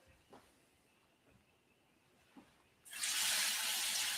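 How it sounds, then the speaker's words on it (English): Temperature-controlled, filtered water sprayed from a hose into a reptile enclosure, a sudden loud hissing rush starting partway through after a quiet stretch with faint insect chirps. "I am going to spray some water in Hundo's house here."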